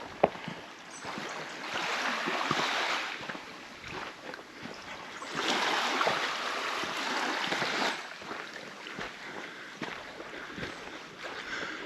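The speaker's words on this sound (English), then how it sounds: "Gentle ripples on the beach." Gentle waves lap and ripple on the shore of a bay at Cala Fornells, Mallorca, a soft, rolling wash that swells and fades in slow surges, fairly quiet and heard without any talk.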